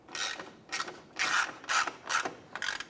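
A hand ratchet tightens a fog light retainer bolt on a 2005-2007 Ford Five Hundred, giving six quick bursts of close, crisp clicking separated by short pauses.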